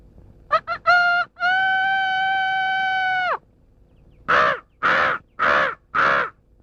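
A crow caws in a Telugu comedy film scene: a few short harmonic calls, then one long drawn-out call, and after a pause four harsh caws in an even rhythm, close and loud.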